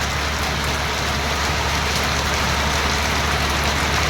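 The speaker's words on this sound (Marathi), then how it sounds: "खवासपूर गावामध्ये पाऊस आला." Unseasonal summer rain falls in Khavaspur village, a loud, dense, unbroken hiss of drops on surfaces with a faint low rumble underneath and no talking.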